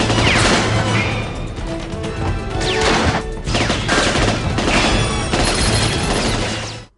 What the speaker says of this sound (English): The now required Brosnan machine gunning and lots of explosions.